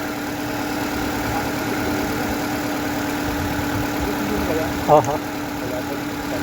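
A 2009 Nissan Grand Livina engine idles steadily after a timing chain job, a constant even hum with a brief clatter near the end while people speak over it.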